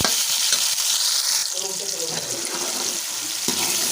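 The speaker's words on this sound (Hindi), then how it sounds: "घी हमारा गर्म हो रहा है, साथ ही हम इसमें डाल देंगे। इसको अच्छी तरह से भून लेंगे।" Tomatoes and green chillies frying in hot ghee in a pan, a steady close hiss and crackle of sizzling with faint stirring, continuous throughout without talk.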